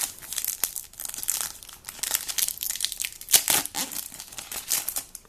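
Plastic blister packs of Ekstraklasa 16/17 trading cards are torn open by hand and with scissors, giving close, dense crinkling and crackling with sharp snaps, continuous and alone without talk.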